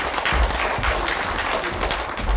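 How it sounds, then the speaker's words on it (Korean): An audience applauds a professor being introduced to speak at a public forum on Gimhae city history and Gaya. The clapping is a steady, dense, fairly loud wash with occasional low thumps throughout. "큰 박수 부탁드립니다"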